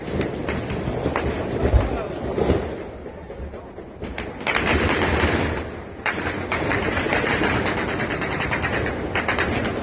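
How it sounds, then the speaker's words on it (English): Intense gunfire during protests in Afghanistan, bursts of rapid automatic shots and scattered single cracks at mid distance, loud and uneven with sustained rattling stretches and brief pauses, with voices talking beneath. "listen to how intense this gunfire gets at times"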